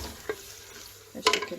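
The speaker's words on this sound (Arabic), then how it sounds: "شوفوا حمسته شويه ويا البصل تغير لونه" Meat and onions frying in a pan for a meat dish, with a low steady sizzle, a single stir scrape early on and a louder burst of stirring and clatter near the end.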